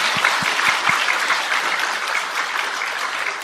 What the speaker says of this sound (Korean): 우리 하나님 앞에 축하 박수 한번